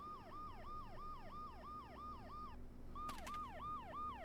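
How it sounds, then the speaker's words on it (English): Ambulance siren in the video game Dead Synchronicity, a rapid repeating wail, loud and continuous, briefly interrupted before resuming, with a faint background hum and no talking. "The ambulance's siren is making an infernal noise."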